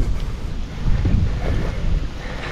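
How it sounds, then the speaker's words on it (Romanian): Wind gusts along the Danube riverside on a late-October fishing trip, making a loud rumbling buffet on the microphone that rises and falls over a couple of seconds. "bate vântul puțin mai tare"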